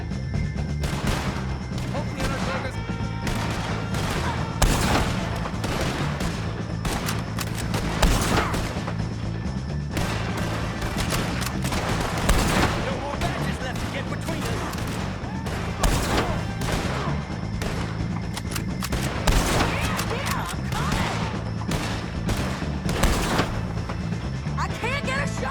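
Gunfights in the western game Red Dead Redemption 2 against the O'Driscoll gang, with repeated rifle and pistol shots cracking out amid a constant loud din and shouting voices throughout.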